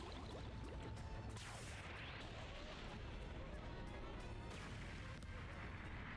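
Ship being smashed and destroyed in a One Piece Fish-Man Island anime battle: continuous crashing, rumbling debris noise with booming impacts, steady and fairly dense throughout, heard at low level.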